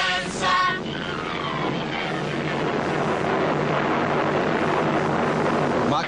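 A cartoon youth machine starts up with a loud, steady mechanical roar like an aircraft engine, sweeping tones at the start, then a dense, sustained rumble filling the whole clip.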